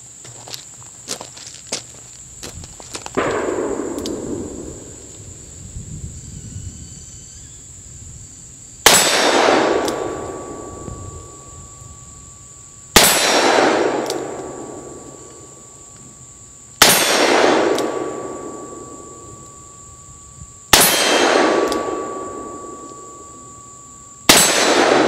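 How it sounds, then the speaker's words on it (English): A Colt Python revolver fires .357 Magnum rounds one-handed. About five or six loud, sharp reports come a few seconds apart, each with a ringing, fading tail. "let's see how well I can control these 357 Magnum shooting with just one hand"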